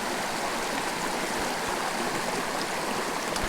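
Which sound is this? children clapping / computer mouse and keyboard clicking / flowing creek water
flowing creek water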